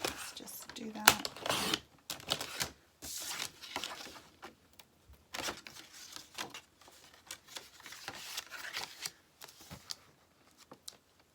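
Scissors cut a paper background piece down to size for a wax craft project, a run of quick, close snips and paper rustles in irregular bursts.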